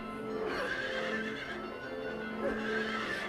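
Horse neighing in the Silent Hill 3 video game, a strained, wavering whinny that rises twice over a steady droning game soundscape, fairly close and clear with no talking.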